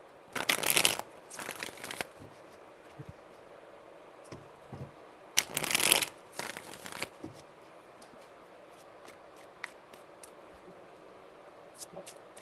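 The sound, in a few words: tarot cards being shuffled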